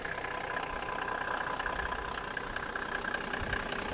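A Mercedes G-Class 460 six-cylinder turbo diesel idles steadily with an even, continuous mechanical hum and rattle, close by, no voices.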